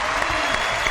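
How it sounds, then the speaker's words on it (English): A burst of studio audience applause, dense and loud, many hands clapping at once. "let's give him a round of applause for that"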